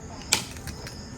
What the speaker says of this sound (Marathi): आता विकास आमचा नारळ फोडतोय